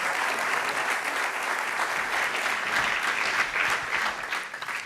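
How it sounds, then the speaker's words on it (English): An audience at the ECB Forum on Banking Supervision gives its conference panelists sustained applause, a thick, even wash of clapping that tapers slightly at the end. "I would just invite everybody for a round of applause for our panelists"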